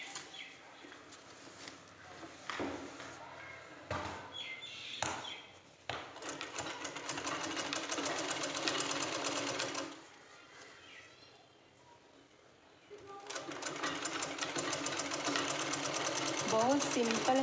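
A sewing machine stitches lace onto a salwar hem in long bursts of rapid, rhythmic needle chatter, pausing briefly between runs, with someone speaking Hindi over parts of it.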